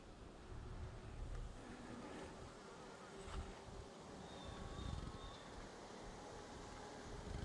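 Honeybees buzz steadily at a weakened hive with emerged queen cells, a dense, even hum running throughout beneath breezy outdoor noise, with no talking.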